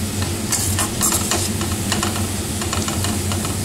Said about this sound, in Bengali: একটু হলুদ আর পরিমাণ মতো নুন দিয়ে ভালোভাবে নেড়ে চেড়ে